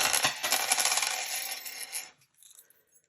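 Coins pour out of a purse in a dense, continuous jingling clatter lasting about two seconds, close and loud, followed by a few faint settling clinks.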